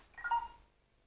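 Short electronic beep from a Hovding 1.0 airbag cycling collar as it switches off, a brief tone cluster that rings out quickly and then falls silent, fairly faint and alone.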